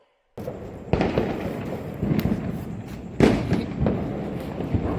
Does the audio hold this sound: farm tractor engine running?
no